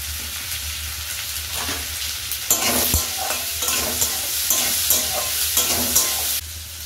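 Onions frying in a pan for an egg tadka dal, giving a steady, close sizzle with several sharp stirring scrapes and clicks over it.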